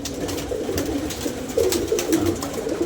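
Pigeons coo in a pigeon-keeping setting, soft repeated throaty calls running continuously over a steady background hum, growing slightly louder partway through.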